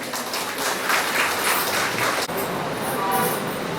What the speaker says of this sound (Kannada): ಬರಲಿ ಒಂದು ದೊಡ್ಡ ಚಪ್ಪಾಳೆ